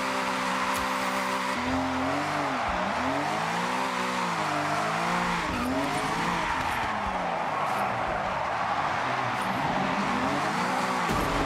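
A car in Forza Horizon drifts with a steady loud engine roar whose pitch swoops up and down through the slides, with tire squeal underneath and no talking.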